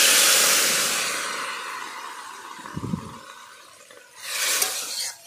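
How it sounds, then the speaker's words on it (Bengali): Water is poured into a pot of drumstick and potato curry, a loud rushing splash that tapers off, a brief thunk of the pot, then a second short burst of pouring close by. "তো এবার জল দিয়ে দেবো"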